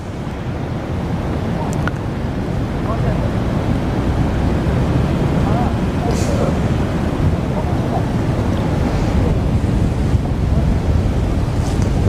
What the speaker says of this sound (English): Wind's got me again